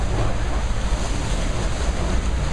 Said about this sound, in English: Drive right through the river here.